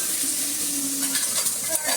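Cumin tempering sizzles in a hot pan for rajma gravy, a soft steady frying hiss with light stirring scrapes, close and fairly quiet.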